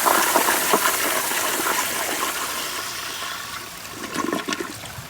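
A 1992 Kohler Kingston Water Guard pressure-assisted toilet at about 60 psi flushing a rag, a loud close rushing gush that tapers off over several seconds with a gurgling burst near the end.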